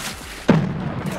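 A grenade goes off in Escape from Tarkov, a single sharp blast about midway that leaves a low rumbling tail over the game's ambient background.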